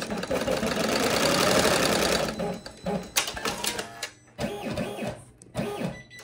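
Embroidery machine stitching the outline for an embossed foam design, running as a steady dense whir at first, then breaking into quick rhythmic mechanical bursts and clacks, close by, with no speech.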